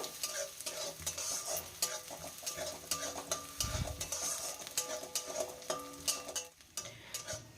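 Chopped garlic and onion fry in a pan, with a steady close sizzle broken by repeated scraping stirs and the occasional clink of utensil against metal, without any voice.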